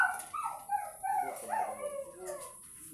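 A mixed-breed askal dog gives a run of faint, whiny, yelping vocalizations with rising and falling pitch, more like whimpers and short howls than sharp barks.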